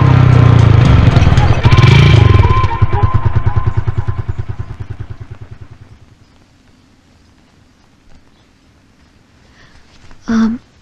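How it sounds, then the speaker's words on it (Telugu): A motorcycle engine in a Telugu comedy film runs loud and close, its rapid putter slowing and fading to idle over several seconds as the bike comes to a stop, followed by a short burst of noise near the end. "గణేష్, ఒకసారి బైక్ ఆపువా."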